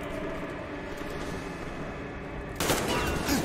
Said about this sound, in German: Sie schießen, sie schießen.